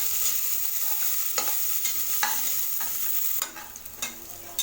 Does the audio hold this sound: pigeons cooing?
no